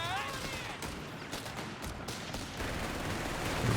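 Rifle fire crackles in a Company of Heroes 3 2v2 brawl, a dense, distant fusillade of overlapping shots running steadily beneath a commentator's voice.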